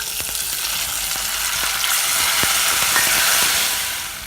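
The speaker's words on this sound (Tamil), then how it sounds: "அதில் ஏற்கனவே நம்ம வேக வச்சு வச்சுருக்கிற பூசணிக்காயும் அதில் சேர்த்துடலாம்." Cooked pumpkin sizzles as it goes into a hot pan of tempered spices, giving a loud, steady frying hiss with occasional light clicks of stirring.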